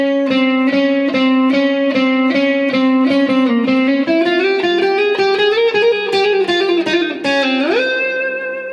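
A distorted electric guitar plays the fast, repeating picked intro line of a rock song, climbing gradually and ending on a sliding, held note.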